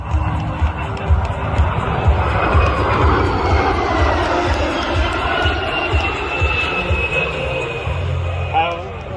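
NASA's SOFIA, a shortened modified Boeing 747SP on its last flight, roars on landing approach in a strong headwind, a broad loud jet rumble with rising whine, wind noise and a crowd murmuring and talking underneath.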